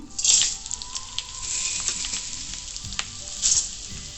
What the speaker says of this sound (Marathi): आता आपण कांदा भाजणार आहे